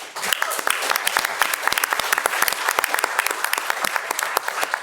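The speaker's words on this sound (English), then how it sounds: "can we give a round of applause to my battle buddy?" Round of applause from a conference audience congratulating a general on his promotion; close, lively clapping with sharp individual claps standing out, sustained from start to finish without speech.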